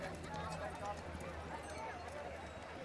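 Horse hooves clip-clop at a trot in an Assassin's Creed game scene, a soft, steady rhythmic patter beneath faint background ambience.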